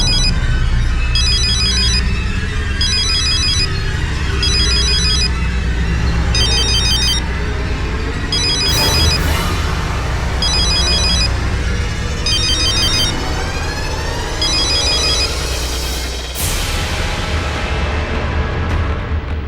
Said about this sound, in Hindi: मैं अभी सीमा जी को फोन करता हूं